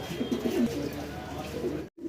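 A pair of Home Shortin pigeons coo steadily up close, their low throaty rolls repeating through the first second and then softening before a brief cut near the end.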